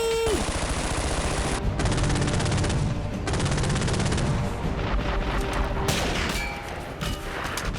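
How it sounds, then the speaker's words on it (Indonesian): Gunfire from enemy soldiers attacking, a dense burst of rapid machine-gun fire and shots in a loud sustained fusillade that shifts partway through, with no voices heard. "Wah, tentara musuh terus menyerang kita."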